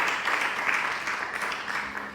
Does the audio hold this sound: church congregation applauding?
yes